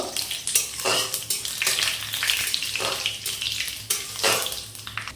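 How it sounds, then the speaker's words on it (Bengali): Bay leaves, dried red chillies and five-spice seeds fry in hot oil for a lentil khichuri, a steady close sizzle with spatula scrapes and stirring clatter running throughout. "এখন তেলের সঙ্গে এই ফোড়নগুলো একটু সময় ভেজে নেব।"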